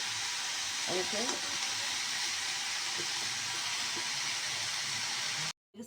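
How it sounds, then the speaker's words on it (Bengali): Broccoli frying in hot oil in a pan, a loud continuous close sizzle with faint stirring clicks, ending in a brief cut to silence. "বন্ধুরা দেখুন, আমি সুন্দর করে ভেজে নিচ্ছি।"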